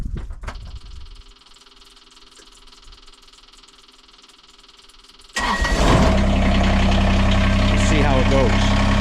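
A small Kubota tractor engine idles quietly at first, then throttles up sharply partway through and runs loud and steady while digging footing holes for a three-season porch build.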